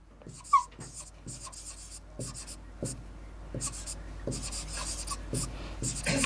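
A teacher writes out an English grammar example on a board, with a run of short tapping and scratching strokes in a quiet room and faint breathy sounds in between.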